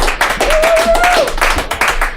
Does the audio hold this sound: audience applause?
yes